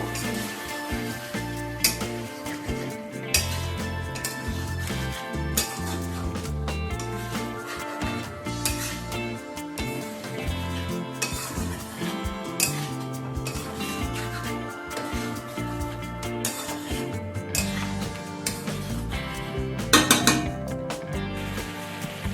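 Sour yogurt being stirred into chicken in a pan over a low gas flame, with soft scraping and clinking of a spoon against the pan, a faint sizzle underneath and occasional sharper metallic knocks.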